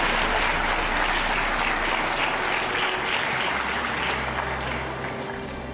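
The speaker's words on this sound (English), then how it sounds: "let's just give a clap to everyone in the Dubai Future Foundation who worked very hard" Sustained applause from a large forum audience at the Dubai Future Forum, dense continuous clapping that holds steady and then eases slightly toward the end.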